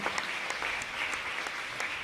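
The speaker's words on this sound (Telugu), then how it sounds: "గట్టిగా చప్పట్లు కొట్టి దేవునికి వందనాలు చెల్లించుదాం" Audience at a Christian gospel healing convention in Visakhapatnam clapping steadily, a dense continuous patter of many hands with no talk over it.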